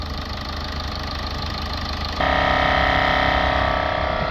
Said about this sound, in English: Sounds like a proper diesel.